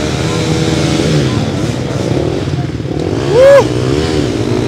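A racing motorcycle at a TT race on the Gurp circuit in Grayan, its engine roaring loudly and revving, with a rising whine near the end, under a commentator's voice.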